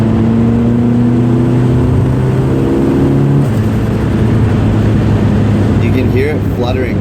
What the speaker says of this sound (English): You can hear it fluttering like crazy.